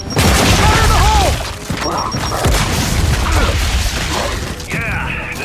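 A grenade goes off in Gears 5 with a loud, close boom at the start, then crashing and battle noise continue while voices speak over it.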